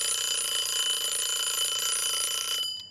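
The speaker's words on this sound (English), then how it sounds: "5 minutes, one act timer. When it rings, the story ends." A one-act timer rings with a continuous bright, steady electronic alarm tone for nearly three seconds, loud and close, then cuts off abruptly, leaving a brief quiet tail.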